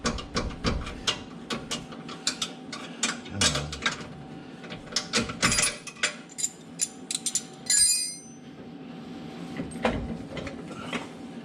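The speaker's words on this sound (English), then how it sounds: "let's see if we can get this wrench loose without losing all the flesh from our knuckles" A wrench loosens a bolt on a CJC skid plate under a Power Wagon truck, giving irregular close metallic clicks, ratcheting and clanks with short pauses between bursts.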